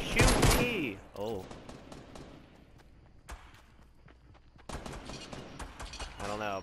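Bursts of video-game gunfire from Fortnite crackle in quick volleys, with a loud flurry at the start and another near the end, while voices talk over the action.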